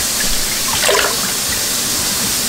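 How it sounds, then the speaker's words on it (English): Water runs steadily into a soup pot for deer backstrap soup, a constant close splashing pour with no talk. "Then we're gonna fill it up with some water"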